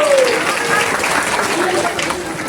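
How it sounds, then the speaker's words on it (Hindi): Audience applause at a Radhaashtami katha gathering, a steady wash of clapping filling the room throughout, with a voice briefly audible over it near the start. "तालियां बजाइए जोर से।"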